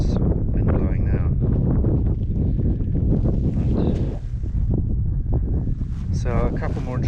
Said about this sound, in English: there's wind blowing now